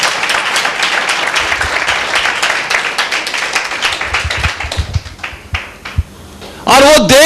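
A church congregation claps together during a Hindi-language worship meeting, a dense, steady burst of many hands that thins out near the end before a voice cuts in.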